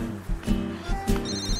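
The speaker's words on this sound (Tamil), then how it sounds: "இங்க பாரா, உடனே கால் பண்றா." A phone rings with an incoming call in a Tamil comedy film, giving short repeated rhythmic pulses at moderate volume over low background noise.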